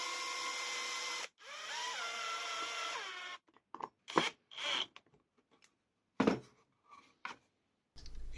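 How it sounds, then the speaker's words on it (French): A simple wooden batten being screwed from underneath into a laser-cut Iron Man RGB decoration support, with a steady whirring drive that stops, then short irregular grinding bursts and pauses, alone and fairly close. "Je continue mon support avec un simple tasseau de bois que je viens visser par le dessous."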